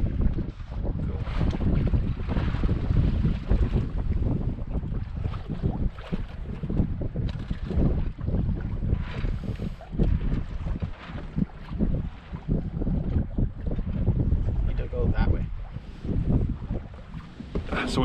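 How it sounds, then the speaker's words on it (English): Sailboat under way between Owen Sound and Meaford, with continuous wind rushing over the microphone and water splashing against the hull, moderately loud and unbroken, with faint voices now and then. "We're sailing. We're heading to Meaford."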